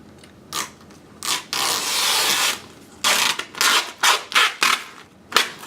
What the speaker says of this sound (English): now we can actually remove the excess film